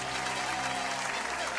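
Enthusiastic applause rings out to welcome a guest on a podcast, dense and continuous clapping from a group that fills the whole stretch without pause.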